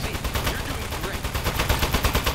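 Gun firing by itself in Aperture Deskjob, rapid continuous automatic bursts of loud shots in a steady rattling rhythm, with a voice speaking faintly underneath.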